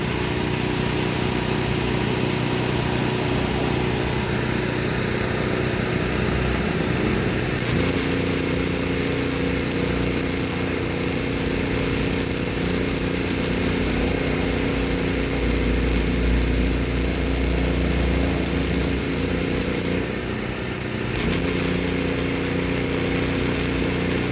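A Hyundai HG200 gasless flux-cored welder runs at its maximum of 21 V, giving a loud, continuous crackling buzz of the arc. The sound holds steady for long stretches, with brief breaks and restarts.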